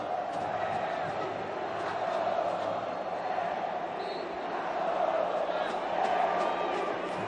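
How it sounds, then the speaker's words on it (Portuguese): Vasco football supporters roar and chant inside a stadium during a Carioca Championship semifinal against Flamengo, a broad, steady crowd wash from a distance with a commentator talking over it. "O torcedor do Vasco já solta um grito aí de eliminado."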